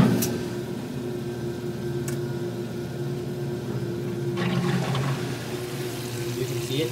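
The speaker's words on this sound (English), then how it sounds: "Whereas this Maytag is going to be draining out of here" A Maytag washing machine drains its wash water out through a hole, a steady low churning whoosh of pump and flowing water with a brief splashy swell partway through, close by and without talk.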